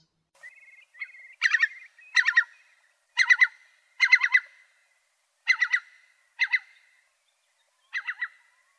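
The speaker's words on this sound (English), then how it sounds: "Curlew Sound." A curlew calls repeatedly in Upper Teesdale with short bursts of rapid, bubbling notes over a steady thin whistling tone, about eight phrases spaced irregularly, fairly clear and close.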